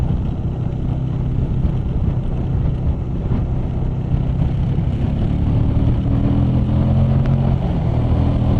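A 2020 Suzuki V-Strom 1050XT motorcycle cruising on the road, its steady engine drone mixed with constant wind rush that fills the whole stretch without pause, with no talk over it.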